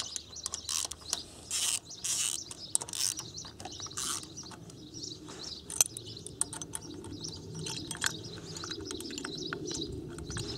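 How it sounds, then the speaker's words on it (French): Ratchet wrench with an 8 mm socket backing out the three ignition-cover screws on a 125 cc four-stroke engine, giving faint, quick bursts of clicking and ticking, close by with no talk. "Ensuite vous prenez votre douille de 8, votre cliquet et vous allez démonter les 3 vis qui sont au niveau du"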